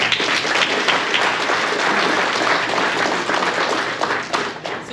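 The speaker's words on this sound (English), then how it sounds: "thank you for that round of applause" Applause from a crowded room at a pickleball awards banquet, dense steady clapping that fills the space from start to finish with no talk over it.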